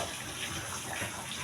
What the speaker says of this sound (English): I'm just going to start by washing thoroughly all the ingredients that I have.